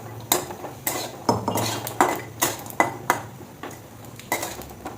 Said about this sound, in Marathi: थोडंसं तेल टाकूया आपण खोबरं भाजण्यासाठी